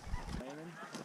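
During a snow goose hunt in Canada, a brief honk from a goose sounds amid the hunters' voices. The call is a short, fairly faint burst.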